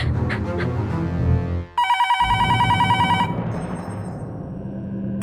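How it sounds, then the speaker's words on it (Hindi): A telephone rings in a tense household during a kidnapping drama, its bright repeating electronic trill cutting in sharply after talk, with speech and background score continuing beneath it. "कहीं उसका ही फोन तो नहीं है?"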